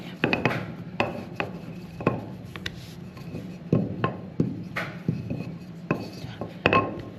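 Soft rolling and thumping on a work surface as pecan pie dough is pressed and rolled out, with irregular knocks and scrapes at close range.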